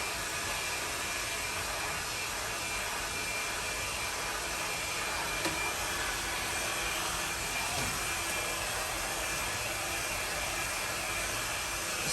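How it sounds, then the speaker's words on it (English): A pet dryer set to medium or low heat blows a steady, even rush of air over a dog after its bath, a constant close whoosh with no voices. "And all the dryers are set to a medium or low heat, so it's not hot either."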